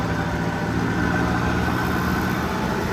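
Low, steady rumble of a heavy tractor engine idling nearby, a constant throbbing drone with no speech over it.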